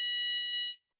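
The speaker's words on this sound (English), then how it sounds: "That's our fire alarm test." A fire alarm test sounds as a single short, piercing electronic tone lasting under a second, loud and steady before cutting off abruptly into silence.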